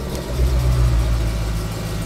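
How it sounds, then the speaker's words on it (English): Exhaust of a 1988 work truck with a 6.0 LS engine swap, a loud, close, deep rumble holding steady over a couple of seconds, no voices. "get y'all some of that exhaust"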